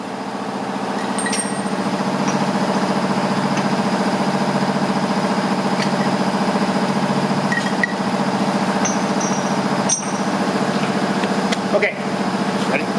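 A Scotchman 14-inch semi-automatic variable-speed cold saw runs steadily with a continuous motor hum and faint metallic clinks, holding a constant level throughout with no talk.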